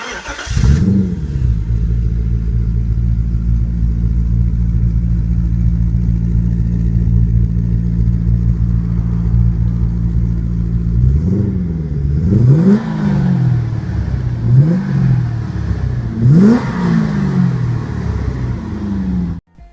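Old Mercedes fitted with an American 440 V8 idles with a loud, steady rumble, then gets blipped in several sharp revs that rise and fall near the end.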